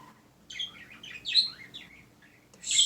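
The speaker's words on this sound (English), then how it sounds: "Birds!" Loud, bright bird chirps and tweets in quick bursts, several calls overlapping up close against an otherwise quiet background.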